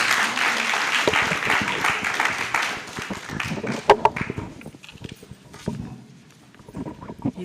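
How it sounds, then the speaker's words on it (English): Audience applause fills a hall at an author's book launch, a dense wash of clapping for several seconds that thins and fades out, with a few scattered claps and faint voices mixed in. "Please, a round of applause."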